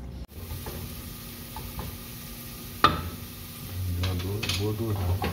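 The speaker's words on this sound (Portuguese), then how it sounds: "Vou fritar." Minced garlic, four cloves, fries in a generous drizzle of olive oil in a pan, a soft continuous sizzle with a few scrapes and a sharp clatter midway, then louder frying as voices talk over it.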